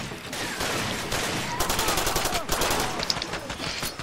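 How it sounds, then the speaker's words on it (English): Rapid gunfire rattles in Far Cry 2 as shots tear through a jeep, dense overlapping bursts of fairly quiet, continuous shooting with a voice talking briefly over it. "Shooting through the jeep."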